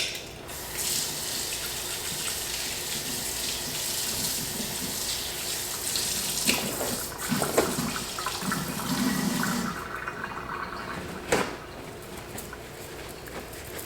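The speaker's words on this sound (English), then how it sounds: "I'm gonna rinse my hands" Running tap water splashes over hands being rinsed in a kitchen sink while kale chips are prepared, a steady close rush with a few louder splashes and knocks toward the end.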